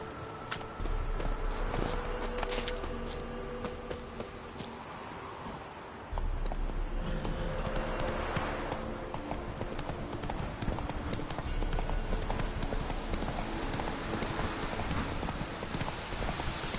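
Horse hooves clip-clopping steadily at a walking pace over a busy outdoor game soundscape, loud and close, without speech.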